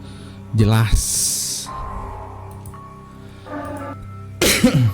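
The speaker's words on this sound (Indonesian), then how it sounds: "masih batuk guys, gue lama banget ini batuk" Two or three harsh, bursty coughs at the start and end, loud and close, with a quieter hiss and faint tones in between.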